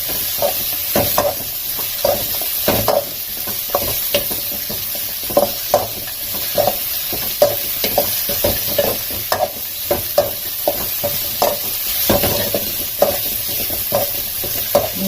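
Ridge gourd peel roasts over a medium flame for chutney, with a soft sizzle under repeated scraping strokes of stirring in the pan at a steady rhythm, without talk.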